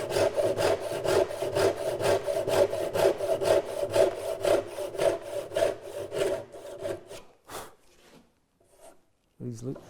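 Hand saw cutting wood for a dovetail joint, a steady run of rhythmic back-and-forth strokes at close range, about a dozen passes, then stopping with a few light knocks and handling sounds.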